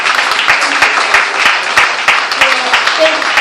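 An audience applauds a DJ as she comes up to speak. Crisp individual claps ring out over a continuous bed of clapping, with scattered voices and cheers.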